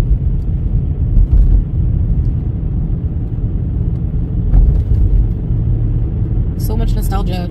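A car drives down a town street in Cornwall, its engine and road noise forming a steady low rumble close by, with a brief higher sound near the end.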